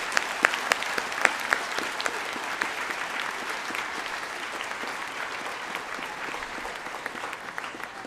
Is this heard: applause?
yes